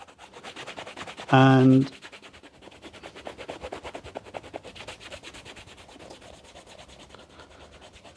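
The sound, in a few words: crepe rubber eraser rubbing a Timberland boot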